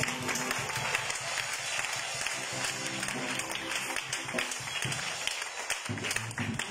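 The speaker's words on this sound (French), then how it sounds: "On acclame le Seigneur" A church congregation applauds and acclaims the Lord in a dense, continuous burst of clapping that lasts throughout, with a lively crowd and some voices mixed in.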